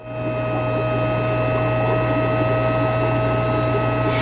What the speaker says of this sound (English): I'm right now draining the water. I got my vacuum in the tank.